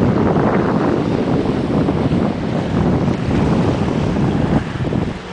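Strong wind roars steadily across a sailboat on English Bay under a partial sail in big waves, a loud, continuous buffeting rush mixed with wave wash and microphone wind noise, with no speech.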